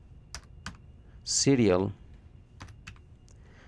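Quick keystrokes tapped on a computer keyboard, a few isolated clicks around a short burst of speech, fairly close and distinct.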